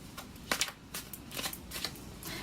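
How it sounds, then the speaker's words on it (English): Tarot cards riffle and slap in a series of quick, crisp bursts, close and fairly quiet, with short pauses between shuffles. "But I shuffle in front of you so you can also see"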